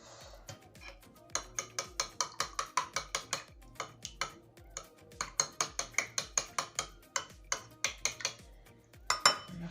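Homemade lemon yogurt being stirred by hand in a bowl, a spoon clinking steadily against the sides in a quick, regular rhythm of close, bright taps with a brief pause midway.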